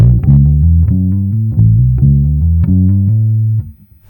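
Electric bass with the mids turned up plays a riff, a steady galloping run of repeated low notes, close and loud, with a warm tone and no voices.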